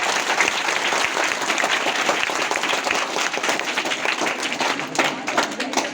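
Applause from children at a school Basant Panchami celebration, a dense, steady roar of many hands clapping loudly and continuously throughout.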